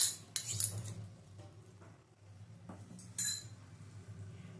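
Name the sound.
mixing beaten yogurt into pulao with a spoon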